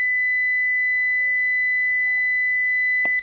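Multimeter in continuity mode beeps across a shorted capacitor from a CDI box, a steady high tone held for about three seconds, clear and alone, with a faint clatter at the end.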